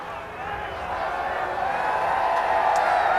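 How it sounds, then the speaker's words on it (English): A racetrack grandstand crowd of fans along the front stretch cheers at a NASCAR race, a steady distant roar that swells gradually, with faint whistles on top. "So you hear that cheering"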